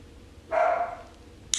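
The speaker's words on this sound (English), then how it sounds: "My dog's barking." A dog barks once at close-to-mid distance, a single short bark in an otherwise quiet room, followed by a faint brief sound.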